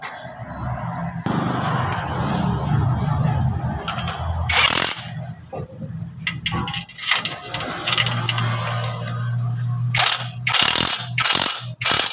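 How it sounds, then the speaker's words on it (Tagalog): A ratchet tightens the bolts on a clutch pressure plate, giving bursts of close, rapid clicking mixed with clanks and other mechanical handling noise. "So ilalak ko na yung mga bolt."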